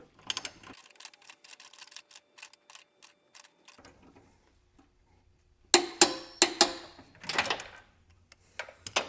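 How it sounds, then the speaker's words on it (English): A torque wrench tightening engine mount bolts on a 2006-2011 Honda Civic sedan ratchets in a fast run of close, even clicks, then goes quiet before louder, sharper metallic clacks follow. "I got my torque wrench here ready"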